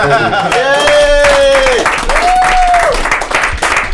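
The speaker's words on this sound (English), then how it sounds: "Give a round of applause for Ahmad Daniels, everybody." A comedy club audience applauds a stand-up comedian. Loud, dense clapping is topped by drawn-out whoops and cheering voices rising over it.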